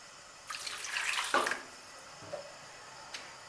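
A small amount of water is poured into a pot of chicken for shami kabab, a short splashing pour lasting about a second, followed by a faint clink, in a quiet kitchen.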